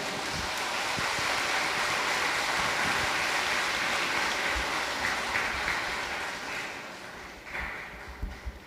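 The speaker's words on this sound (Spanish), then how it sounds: "Un aplauso para el hermano." Applause from a church congregation after a sermon, a broad continuous patter of many hands that fades toward the end, with a few stray claps trailing off.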